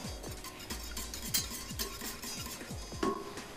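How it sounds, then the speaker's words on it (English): Pizza ingredients are stirred in a bowl, with a steady run of close scraping, clinking strokes repeating in a quick rhythm throughout and no talking. "And just mix this up just a little bit."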